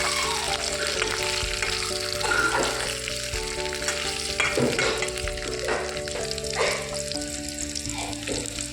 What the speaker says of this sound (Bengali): আলু আর পেঁয়াজটা আমি এবার ভালো করে আরেকটু ভেজে নিই